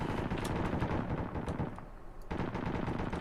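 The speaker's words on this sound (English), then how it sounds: "I hear gunfire." Sustained automatic gunfire in the military video game Arma 3, with dense rapid bursts from several weapons rolling on continuously at loud, fairly close range with a brief lull near the middle.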